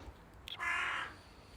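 A single harsh caw from a passing wild crow, close and clear, lasting about half a second after a brief faint call, with quiet outdoor background around it.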